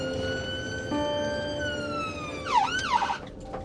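Ambulance siren wailing from the vehicle as it drives, a steady rising tone that breaks into quick warbling yelps near the end, loud over engine and road rumble.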